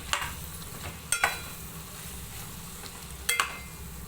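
Chicken curry with chilli powder and salt stirred in a pan, soft continuous sizzle with a few sharp spoon scrapes and clacks against the vessel, close and moderately quiet, no voices.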